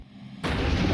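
A 9% methane gas-air mixture ignites and explodes inside a room, a sudden loud blast that cuts in after a quiet moment and rolls on as a dense, sustained roar to the end.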